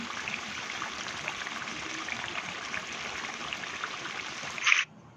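A small glass of water is poured into simmering chicken curry, producing a faint, steady hissing stream that swells briefly into a splashy burst before stopping abruptly.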